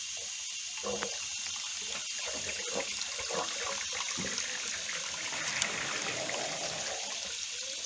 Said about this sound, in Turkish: suyumuz şimdi bu giderden e, akıyor